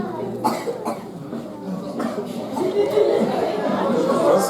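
Someone coughs a few times inside a church during a special Mother's Day service, sharp bursts near the start over a murmuring crowd with chatter building behind them.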